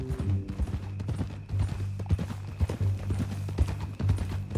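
Horse hooves clip-clopping in Red Dead Redemption 2, a steady rhythmic run of close, hollow hoof strikes on a ranch visit, continuous over a low background hum, with no speech.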